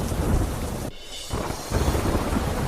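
Heavy monsoon downpour in the Kolivad area of Porbandar roaring as a dense, loud wash of rain, with a brief dip near the start before the hiss builds again. No voices are heard.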